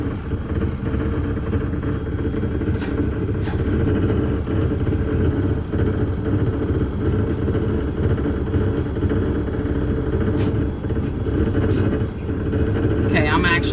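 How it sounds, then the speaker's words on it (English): A roll-off truck's engine runs steadily as the truck pulls up and repositions in a tight space, a continuous low rumble filling the whole stretch with a few faint clicks over it. "We're gonna pull up and we're gonna reposition our truck."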